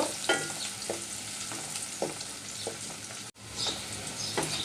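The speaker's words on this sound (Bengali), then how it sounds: "চিংড়ি শুক্তির সাথে আমি পেঁয়াজ আর রসুনটা একটু হালকা বেজে নিব" Chopped onion and garlic fry with dried shrimp in hot oil, giving a steady, close sizzle. A spatula scrapes through the pan in a loose rhythm of stirring strokes, with no talking.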